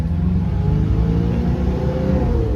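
A 1996 Mitsubishi Strada cab pickup drives along with a close, steady engine drone and a slight change in pitch through the short stretch, with no talk.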